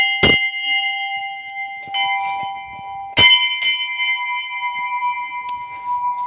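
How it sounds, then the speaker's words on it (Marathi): A small bell in a little temple built inside a cave rings in two clear strikes with long sustained metallic tones that fade slowly, with faint clatter and quiet surroundings between. "आणि इथे घंटी पण आहे."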